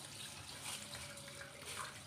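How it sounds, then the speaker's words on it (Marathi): Two cups of basmati rice being washed in a bowl of water, a faint, soft sloshing and trickling close by, with no voices. "तांदूळ धुवून घेते।"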